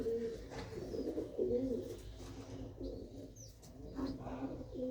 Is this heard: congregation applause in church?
no